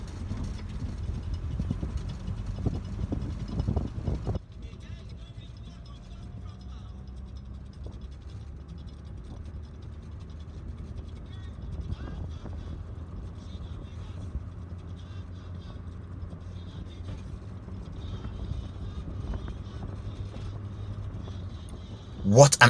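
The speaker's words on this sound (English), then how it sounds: "you see your vehicle driving through those rocks into Idore town" A vehicle drives along a road between rocks on both sides toward Idore town, giving a steady low engine and road rumble that shifts after a jolt early on and swells at the very end.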